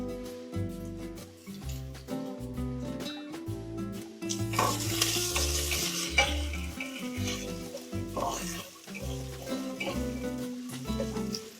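Garlic sautés in a pan with a bright sizzle, mixed with repeated scraping and stirring strokes and a background of music-like tonal sound, swelling louder midway.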